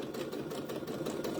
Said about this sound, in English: I'm going to back stitch and stop